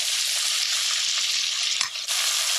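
Potatoes frying with turmeric in a pan, a loud, steady close-up sizzle with a brief dip as the pieces are stirred, and no talk.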